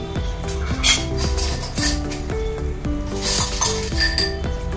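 A plate and a mortar and pestle are set on top of a biryani pot, giving a series of bright metallic clinks and ringing taps with resonant tones, close and fairly loud, with no speech.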